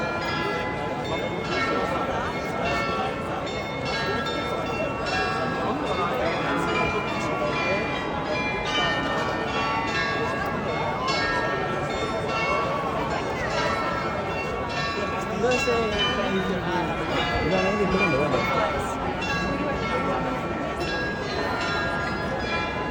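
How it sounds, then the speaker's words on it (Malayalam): Munich's Rathaus glockenspiel clock rings out tunes on its 43 bells, overlapping chimes ringing steadily in the open square, with crowd chatter running beneath. "ആ 43 ബെല്ലുകളുടെ സൗണ്ടുകളാണ് പല രീതിയിൽ നമ്മൾ കേട്ടുകൊണ്ടിരിക്കുന്നത്."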